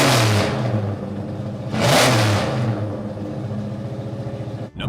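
A 1969 muscle car V8 rated up to 350 or 375 horsepower revs loudly and close, with two rising throttle surges over a steady rumbling idle and a brief dip near the end.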